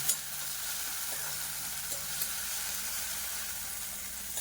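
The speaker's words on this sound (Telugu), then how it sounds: "కొద్దిగా పుదీనా అనేది ఎక్కువ ఫ్రై అవ్వాలి ఫ్రెండ్స్, కొద్దిగా అయితే చాలు" Mint leaves fry in oil in a pan for a tomato, coriander and mint chutney, giving a steady close sizzle with faint stirring scrapes throughout.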